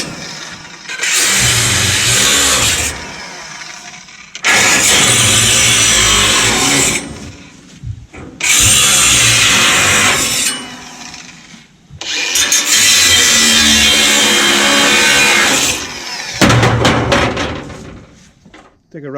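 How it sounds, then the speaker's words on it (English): An engine-powered grinder runs during firewood splitting. Its loud, rough motor roar comes in long bursts separated by brief pauses. "Let me go get the grinder."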